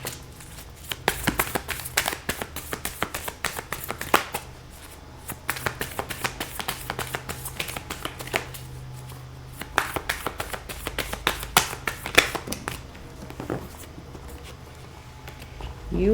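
Tarot cards are shuffled by hand in a quiet room, a close series of crisp riffling bursts and soft flicking taps coming in irregular clusters.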